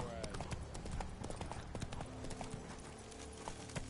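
Hooves of Roach the horse clip-clop in a steady rhythm through The Witcher, close and loud over a busy game soundscape with speech-like voices mixed in.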